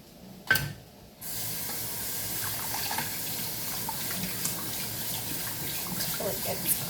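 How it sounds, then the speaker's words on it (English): Cold tap water streams steadily over strained vegetables in a kitchen sink, a close, continuous hiss and splatter that starts abruptly after a brief clunk and runs to the end. "And then I'm gonna rinse it under cold water."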